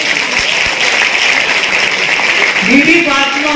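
Audience clapping at a school naat recitation competition, a dense steady wash of applause throughout, with a voice starting to speak over it near the end.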